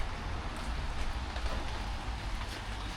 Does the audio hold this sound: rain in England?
yes